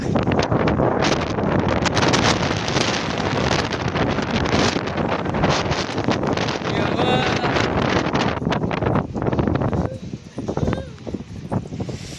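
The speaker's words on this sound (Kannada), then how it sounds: "ಗಾಳಿ ಐತಿ, ದನಿ ಒಂದು ಸರಿಯಾಗಿ ಬರಲ್ಲ." Heavy wind buffets the microphone in constant gusty roars in Bijapur, nearly drowning out someone talking underneath.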